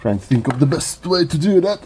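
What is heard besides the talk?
No everyday noise stands out behind the speech.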